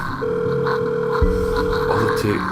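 A phone places a call in the horror visual novel The Letter: a steady electronic tone, then a short burst of dialing beeps that stop abruptly, heard close and clear.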